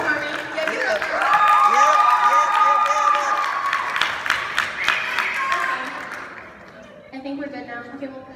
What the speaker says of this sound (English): Round of applause for Harmony.